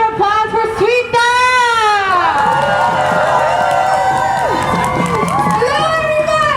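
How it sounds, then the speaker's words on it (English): Cheering and whooping from a crowd at an outdoor march for biodiversity and human rights in Montreal, loud and close, with rising shouts and voices calling out over a busy crowd. "So please give a round of applause for Sweeta!"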